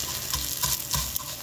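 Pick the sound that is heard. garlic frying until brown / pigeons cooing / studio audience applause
garlic frying until brown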